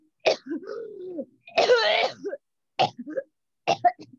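A person coughs and clears their throat in several rough bursts separated by short pauses, with a groaning, voiced quality. The sound is close and nothing else is heard.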